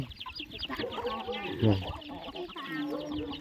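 Chickens cluck and fowl call repeatedly at close range in a rural Lao village, mixed with people talking nearby throughout.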